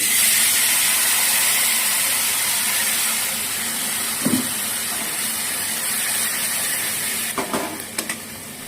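Spice paste tipped into hot oil with whole garam masala and dried chilli sizzles in a loud, continuous hiss, with a couple of soft stirring knocks toward the end.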